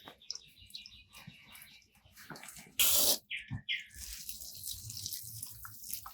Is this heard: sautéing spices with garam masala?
no